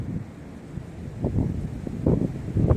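Strong wind blows outdoors near the Ķīpsala shore, heard as low, uneven buffeting gusts across the microphone that swell and fade throughout.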